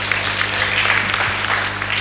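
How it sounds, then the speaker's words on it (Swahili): An outdoor audience at a community centre launch in Arusha, Tanzania, applauds. The clapping is steady and dense and continues evenly throughout, over a low mains hum. "makofi kwa TERAWATU"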